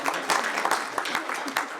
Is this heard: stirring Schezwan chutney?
no